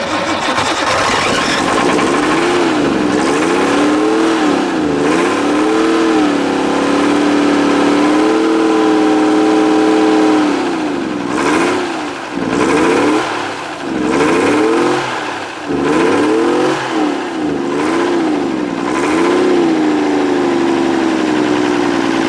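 An engine started using the cold start button with the manifold butterfly open runs loud and close, revving up and down repeatedly with wavering pitch and a few brief dips, no talk over it.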